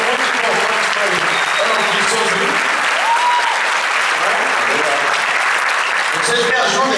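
Sustained audience applause at a live concert, dense steady clapping filling the space with some crowd noise, loud and continuous throughout.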